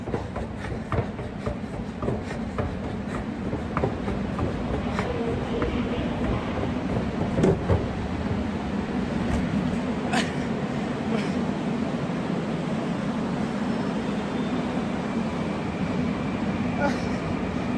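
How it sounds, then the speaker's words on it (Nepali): A train rumbles steadily at a station as it leaves, a continuous low rolling noise with faint clatter and occasional sharp clicks, while people talk over it. "ट्रेन छुट्यो।"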